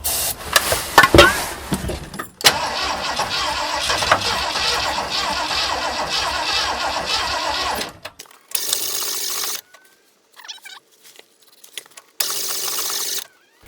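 An engine cranks repeatedly, trying to fire without catching: a loud churning starter burst, then a sustained grinding crank that stops abruptly, followed by several shorter cranking attempts separated by silence.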